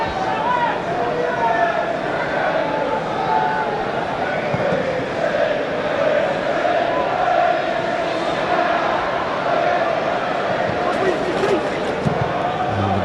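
A football stadium crowd of just under 26,000 at Charlton Athletic v West Ham, a steady dense roar and murmur with scattered shouts, heard continuously beneath a commentator's voice.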